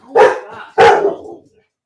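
A pet dog barks twice indoors, two loud, close, sharp barks about half a second apart with a short trailing tail after each, cutting into the room's conversation.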